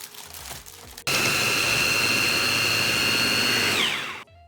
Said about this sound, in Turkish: blender'a atıyoruz.